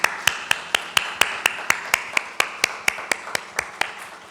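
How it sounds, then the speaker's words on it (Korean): A congregation at a Korean Easter Sunday church service claps together in a steady, even beat of about four claps per second for several seconds. "하나님께 영광 박수 올려드리겠습니다"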